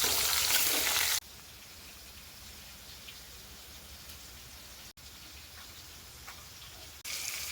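Catla fish pieces fry in hot oil with a steady, even sizzle and crackle, close and alone, cut by a few sharp breaks in the sound.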